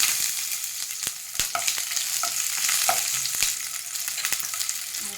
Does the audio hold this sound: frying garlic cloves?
yes